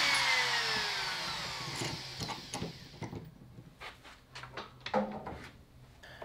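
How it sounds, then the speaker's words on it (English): A Japanese pull saw trims the excess off a wooden jig runner in a workshop, with a broad rasping start followed by uneven scraping strokes and small knocks, close and moderately loud. "And a Japanese pull saw to remove the excess from the runner."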